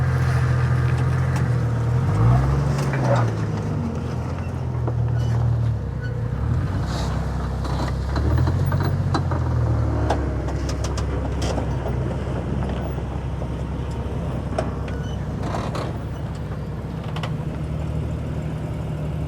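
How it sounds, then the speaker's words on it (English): A Jeep engine rumbles low and steady while driving over rough ground on the Rubicon Trail, its pitch rising and falling briefly, with wind buffeting and occasional knocks. "If the Jeep is making noises, that means it's moving."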